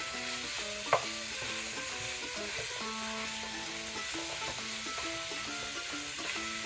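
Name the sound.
ground beef frying and being broken up in a pan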